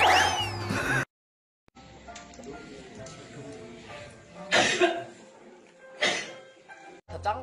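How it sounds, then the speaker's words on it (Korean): A Korean pop idol coughs in a couple of short, rough bursts during a variety show, with chatter and other voices around and between them. "기침."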